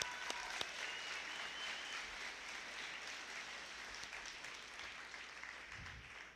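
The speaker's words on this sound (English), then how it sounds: "Let's give them a round of applause for all the incredible work they've done." Audience applause for fire academy graduates at their graduation ceremony: steady, dense clapping from a large crowd that holds at an even level throughout, with a few sharper individual claps near the start.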